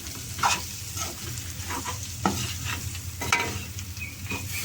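Crabs with onion and chili powder fry in a pan, a continuous close sizzle with several sharp spatula stirs and scrapes scattered through, no voices.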